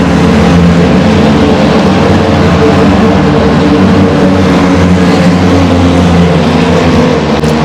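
CFMoto 500SR motorcycle engine, a 12,500 RPM machine with dual exhaust, roaring very loudly and continuously at high revs, a dense sustained drone close up with no voices.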